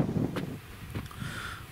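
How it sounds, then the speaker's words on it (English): Strong wind gusting outdoors at dusk in open countryside, a rough buffeting roar with brief rushes, fairly loud and close to the microphone, no speech. "especially with this wind blowing the way it is. It's a pretty strong wind."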